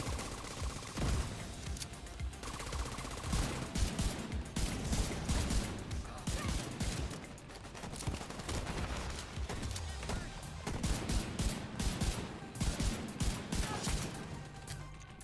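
Covering gunfire in a shooter video game, rapid bursts of shots crackling repeatedly throughout, mixed with mechanical clatter and layered under players talking over each other.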